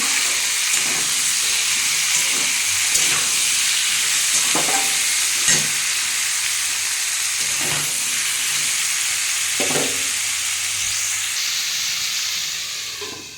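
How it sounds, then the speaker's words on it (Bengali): Potatoes and tomatoes frying together in a pan for a cauliflower and potato posto dish: a loud, steady hissing sizzle with occasional soft stirring knocks, fading slightly at the end. "আলু আর টমেটো একসাথে দিয়ে দেবো দিয়ে বন্ধুরা এটা চাপা দিয়ে দিয়ে ভালো করে লাল লাল করে ভেজে নেবো"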